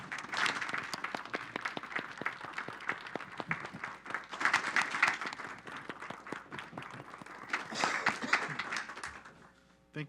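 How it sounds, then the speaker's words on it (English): Applause for an honoree at a city council meeting, with clapping from an audience rising and falling for about ten seconds, then fading out. "Let's give her a round of applause."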